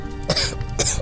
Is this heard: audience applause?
no